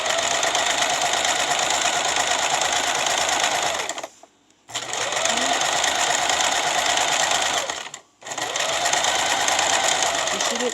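A sewing machine stitches a simple fabric belt in long steady runs, its rapid mechanical whir loud and close, pausing briefly twice between bursts of stitching.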